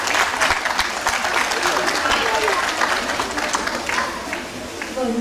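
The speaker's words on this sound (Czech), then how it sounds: "takže to si určitě zaslouží potlesk" At a children's school fashion show, an audience claps steadily and densely, with a dense patter that holds for several seconds before tapering slightly, while voices murmur underneath.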